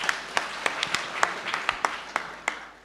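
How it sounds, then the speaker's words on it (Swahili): A church congregation at a branch launch service claps in a steady rhythmic beat, about three sharp claps per second, over a softer bed of crowd noise. "Jipigieni makofi."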